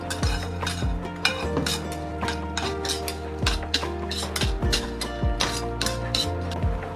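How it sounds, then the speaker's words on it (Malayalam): Sundakai (turkey berries) stirred in a metal pan, with repeated scraping and clinking of a spoon against the pan in an uneven rhythm, close and fairly loud, with no one talking. "അതിന്റെ കളർ കുറച്ച് മാറുന്നത് വരെ ഇളക്കി കൊടുക്കുക."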